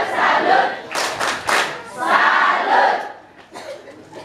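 Students at a school farewell ceremony do the "tepuk salut" clapping chant, a loud crowd shouting in unison with sharp bursts of clapping, repeated in waves.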